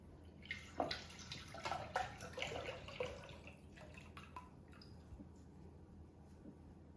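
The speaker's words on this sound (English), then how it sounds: "So now I'm gonna pour our evaporated milk." Evaporated milk is poured for a Cuban guava bread pudding, a close, soft trickle and splash that is busiest early on and then thins out to faint drips, with no talking.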